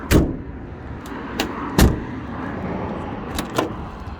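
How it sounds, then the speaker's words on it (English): Doors on an Austin 1300 car slam shut several times, sharp close thuds spaced irregularly over a quiet background, with lighter clicks between. "Door shut sounds."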